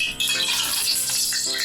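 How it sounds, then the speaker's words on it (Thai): Rice bran oil crackles and spits in a hot wok still wet with water, a dense, steady sizzle with sharp pops running throughout, close and fairly loud with no voices. "ถ้ามีเสียงแตกอย่างนี้แสดงว่ากระทะเรายัง"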